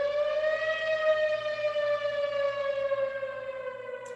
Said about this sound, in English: Do you hear the sirens going off behind me?